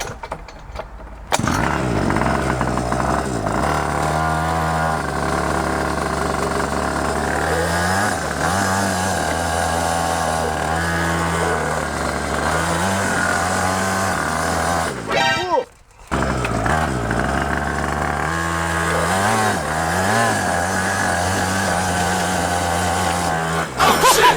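The small engine of a homemade go-kart runs loud and close, revving up and down in repeated surges, cutting out briefly near the middle before catching again, with occasional talk beneath the engine.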